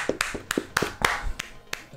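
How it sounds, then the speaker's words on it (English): A short round of applause: a few hands clapping in scattered, uneven bursts for about two seconds, close and moderately loud with no talk over it. "Round of applause."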